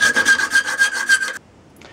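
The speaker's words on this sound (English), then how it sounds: "I'll now just file and clean this up a little bit" Metal travisher blade being filed by hand in a chairmaking workshop, a close, loud run of about eight rhythmic rasping strokes that stops abruptly, leaving near silence.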